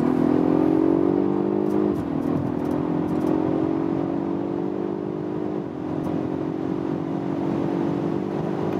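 A Volvo Polestar 1 PHEV accelerates in power mode from about 90 km/h with a loud, steady engine drone that rises in pitch, dips briefly at two gear shifts and climbs again, heard from inside the car.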